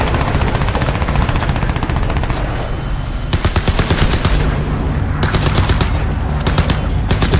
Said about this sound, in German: Ist das so eine automatische Waffe?